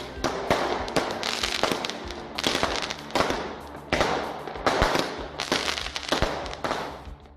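Loud Diwali firecrackers go off in rapid, repeated crackling bursts, one volley after another with short gaps between.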